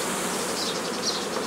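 Honeybees buzz in a dense, continuous swarm drone during a hive transfer, close and steady throughout with no voices.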